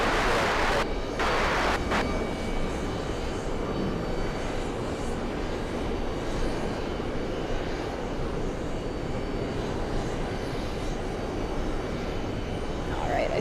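A Delta Airbus A330 airliner arriving from Athens roars steadily on its landing approach, a broad continuous engine rumble held at a constant level, with a burst of wind-like noise near the start.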